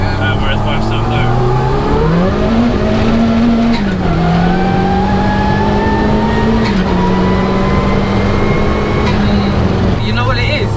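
A 340 bhp turbocharged Peugeot 106 engine revs hard through the gears with rising pitch and shifts, loud and constant from inside the car, with tire squeal and voices mixed in.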